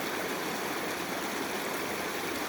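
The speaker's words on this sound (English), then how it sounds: "I like the sounds of like a river running, the streams running." A river stream runs steadily, a continuous broadband rush of flowing water close by with no other sounds.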